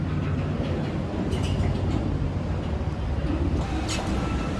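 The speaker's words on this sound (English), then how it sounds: "There's a ferry coming in." A ferry pulls in at a new pier on Bangkok's Chao Phraya River, a steady low engine and water rumble filling the scene with a few faint higher clanks, fairly close and continuous.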